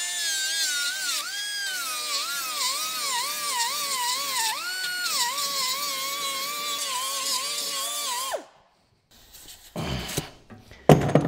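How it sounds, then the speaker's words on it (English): A small rotary wheel grinds the body panel of a Fiat Dino under restoration, a loud high whine that wavers in pitch for about eight seconds, then stops abruptly before a few short rough scraping bursts. "I just got to run the little whizzy wheel around here to see if I can see any spot welds"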